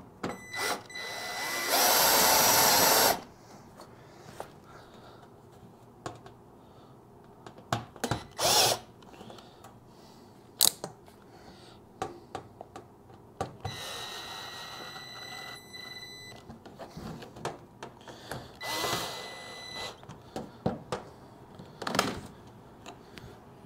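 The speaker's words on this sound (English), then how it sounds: "if you are using a drill for this, I actually suggest using a hand tool" A power drill drives bolts into a Central Pneumatic sandblasting cabinet during assembly. It gives one long whirring run, then short bursts and a second sustained spin, with clicks and handling knocks in between.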